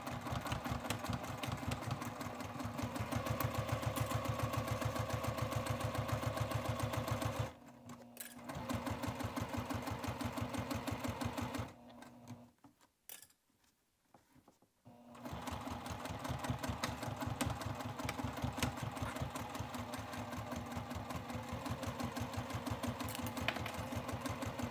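Continuous sewing machine stitching over a dart in a foldover bag, a steady mechanical whir broken by a short stop near the eighth second and a longer quiet gap around twelve to fifteen seconds before resuming, close and alone.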